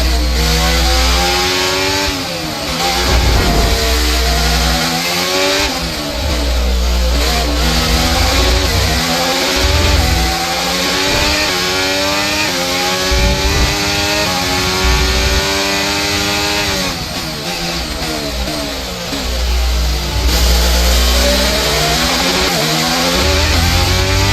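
Formula 1 car engine in the F1 23 racing game on a final lap, a loud continuous high-pitched whine rising and falling through repeated gear shifts, with no talk over it.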